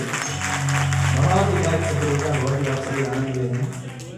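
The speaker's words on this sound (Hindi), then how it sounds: "एक बार सभी लोग जोरदार तालियां अपने लिए बजा दीजिए।" Enthusiastic applause from a crowd at a large commemorative public event in India: a continuous wash of clapping mixed with a sustained tonal voice or music throughout.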